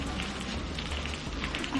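Rain falls as a cartoon story sound effect, a steady dense hiss of drops pattering on surfaces that stays even and continuous throughout.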